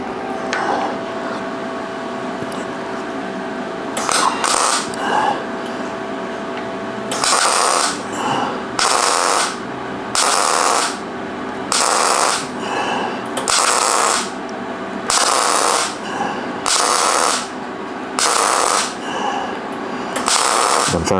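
MIG welding a steel V block, short bursts of harsh crackling buzz from the welder about two seconds each, repeated many times with quiet pauses between, loud and close with no talk.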